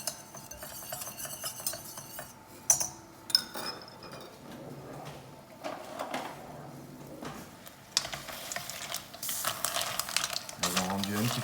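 A spoon stirs curried mussels in a pan with soft scraping and light metallic clinks, faint and intermittent, building to louder sizzling and clattering toward the end.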